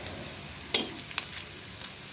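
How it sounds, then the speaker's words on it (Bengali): Onions fry in a pan on a home stove, a soft, low sizzle broken by a few sharp pops and stirring clicks. "পেঁয়াজগুলো ভালো করে ভেজে নিচ্ছি"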